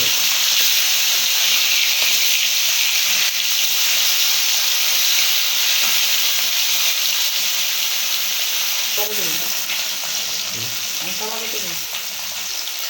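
Tilapia and sarpunti fish frying in oil in a pan, giving a steady, loud, close sizzle and hiss that runs throughout with a few faint clinks and stirring sounds near the end.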